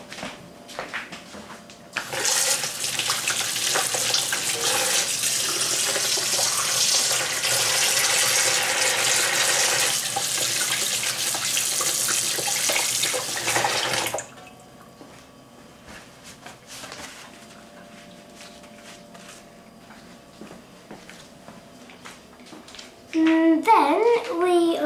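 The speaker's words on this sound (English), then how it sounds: "we're just going to wash our hands." Running tap water pours into a kitchen sink for hand washing before cooking, a loud steady rush lasting about twelve seconds then stopping abruptly, leaving quiet room sound before a brief clatter at the end.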